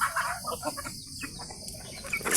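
Native chickens cluck and chatter softly nearby at feeding time, with scattered short calls and faint insect-like chirps over a quiet background.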